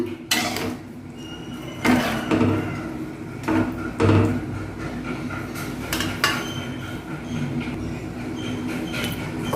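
Metal clanks and scrapes of a spoon stirring okra tamarind curry in a pot, with irregular louder knocks over a steady background hum.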